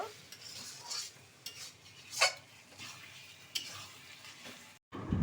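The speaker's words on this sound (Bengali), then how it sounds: "গুঁড়ো মশলাগুলো দিয়ে ভালো করে কষিয়ে নেব" Mutton stir-fried with turmeric and red chili powder for biryani, a soft sizzle under repeated scraping strokes of a spoon against the pan, close and moderately quiet, cutting off briefly near the end.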